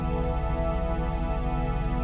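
Synthesized noise shaped by high-pass and low-pass filters plays as a steady, even hiss with a faint low hum underneath, continuous and moderately quiet throughout.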